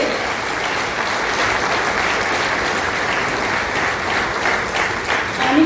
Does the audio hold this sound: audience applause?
yes